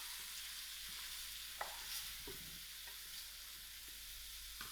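Cauliflower and canned butter beans are stirred in a pan, with a steady quiet sizzle and a few soft scraping ticks from the spoon against the pan.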